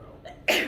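A single sharp sneeze bursts out in a physics classroom, sudden and fairly close, standing out above a quiet room.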